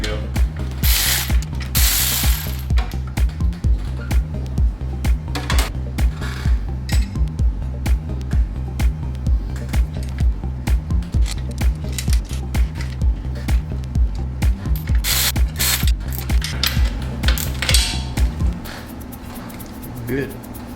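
A ratchet wrench clicks rapidly and steadily while an alternator bracket is removed from a car during a turbo kit install, with loud, close, even pawl ticks that stop near the end, and talk is heard over it.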